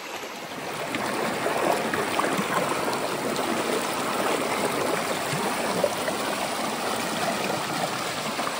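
A natural forest stream of cold water flows in a steady, close rushing babble that stays even throughout, with no voices.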